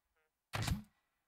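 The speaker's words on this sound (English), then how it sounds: "watch what happens when I shoot it with my spud gun" A spud gun shot striking an impact sensor in the Scrap Mechanic video game, heard as one short, loud thunk, alone, after a faint brief tone.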